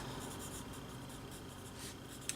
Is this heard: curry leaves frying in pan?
no